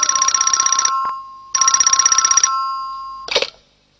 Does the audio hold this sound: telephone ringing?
yes